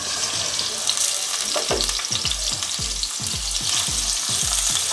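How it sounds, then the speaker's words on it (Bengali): Potatoes frying in hot oil give a loud, continuous sizzle, broken by rhythmic low scraping strokes of stirring, close up with no talk. "আলুগুলো একটু ভেজে নিব।"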